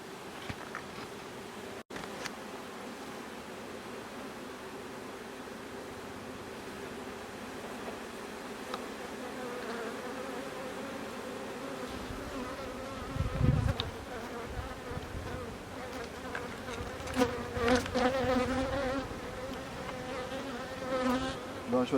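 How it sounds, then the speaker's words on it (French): Honeybees buzzing close by as they are gently brushed off a brood frame in a home hive, a sustained droning hum that grows louder and busier toward the end with occasional rustling. "je dois brosser les abeilles doucement parce que je ne sais pas si ma reine est là"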